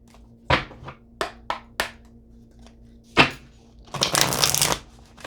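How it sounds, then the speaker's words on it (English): New tarot cards being shuffled by hand, a series of short riffling bursts with a brief pause, ending in a longer, louder riffle close to the microphone. "All right, let me get a shuffle."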